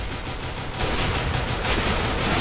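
P250 pistol fire in a shooter video game: a dense, steady burst of broadband crackle that grows slightly louder after the first second and carries on without a break, with no talk.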